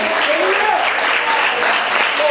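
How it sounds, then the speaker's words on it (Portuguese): Church congregation applauding during a Portuguese-language sermon, a dense steady wash of many hands clapping that fills the short stretch, with faint voices mixed in. "Aplauda o Senhor bem forte."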